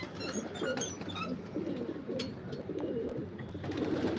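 A loft full of pigeons gives continuous low cooing, several birds calling over one another at close range, with a few brief higher chirps early on.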